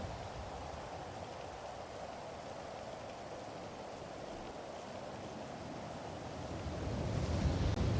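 Rain pours in the Quiet City RP game, a continuous broadband rush heard alone that swells noticeably louder near the end.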